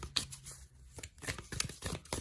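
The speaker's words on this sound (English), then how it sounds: "we'll give them another quick shuffle on camera" A deck of tarot cards is given a quick shuffle, producing brief papery riffles and soft snaps in an irregular burst, close and fairly quiet.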